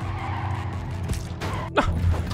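Trucks skid and crash in the Clustertruck video game, a rushing engine-and-tire texture with a sharp sweeping screech near the end, loud and continuous without any talk.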